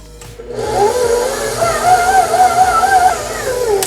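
A stand mixer kneads panettone dough, adding the previous day's starter dough. It starts up after a brief quiet and then whirs steadily and loudly with a wavering motor tone throughout, with no talk.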